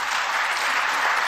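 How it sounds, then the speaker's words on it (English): A studio audience at a televised election debate applauds Rishi Sunak, a brief, even burst of many hands clapping. "Sunak's getting applause now."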